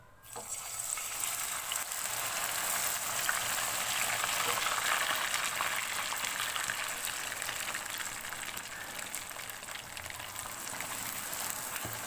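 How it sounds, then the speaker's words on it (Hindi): Milk-soaked semolina hits caramelized sugar in a pan on low heat for makhandi halwa, giving a steady, loud hiss and sizzle that runs unbroken throughout. "आंच हल्की करेंगे और इसके अंदर हम सूजी ऐड कर देंगे"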